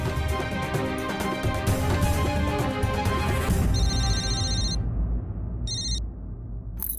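A phone rings in a TV drama scene, its electronic ring cutting in over a loud musical background. After the music drops out, two short rings sound clearly on their own.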